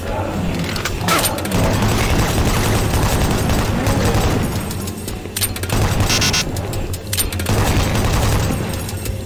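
Heavy video game gunfire roars almost nonstop, loud overlapping shots and booming bursts forming a dense, sustained barrage with brief lulls.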